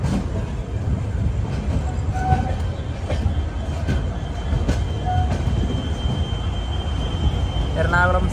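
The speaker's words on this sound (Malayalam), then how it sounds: "ട്രെയിൻ ഇതാ എറണാകുളം ജംഗ്ഷൻ റെയിൽവേ സ്റ്റേഷനിലേക്ക് എത്തിയിരിക്കുകയാണ്" An express train from Bilaspur rolls into Ernakulam Junction station with a steady heavy rumble of wheels on rails, faint clanks, and a brief wheel squeal near the end, heard from on board.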